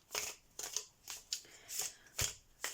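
An In Wonderland tarot deck is shuffled by hand in a quiet room, giving about half a dozen soft, riffling bursts in an even rhythm, close and faint, with no talking.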